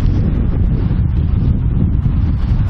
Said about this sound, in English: Yeah, you can definitely hear the wind.